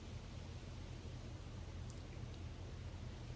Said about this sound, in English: it gently begins to rain.